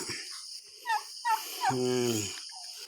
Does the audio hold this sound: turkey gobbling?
yes